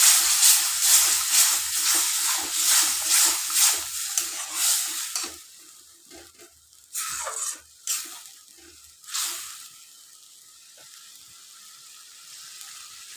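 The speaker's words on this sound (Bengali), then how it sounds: "আমি এই ধোয়া জলটা দিয়ে দিলাম তাতে" Water poured into a pan of frying tomato and onion, giving a loud sizzling, stirring hiss for about five seconds, then quieter spitting bursts and a low simmering hiss.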